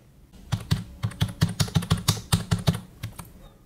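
Rapid keystrokes on a computer keyboard as an Aadhaar number is entered, about a dozen crisp clicks in an even burst, close and fairly quiet with no talk.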